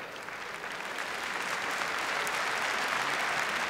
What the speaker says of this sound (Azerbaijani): bir özünüz özünüzü alqışlayın.